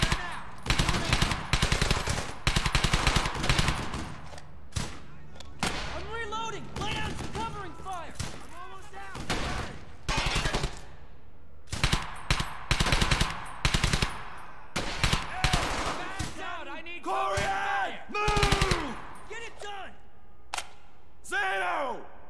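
Machine gun fire in the World War II shooter Brothers in Arms: Hell's Highway, loud rapid bursts repeating throughout against Germans, with shouted voices heard between and under the shooting.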